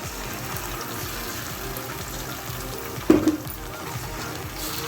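Tomato paste made from four small tomatoes drops into a frying prawn curry, bringing a sudden louder sizzle and splash partway through over a steady background crackle of oil, with no talking.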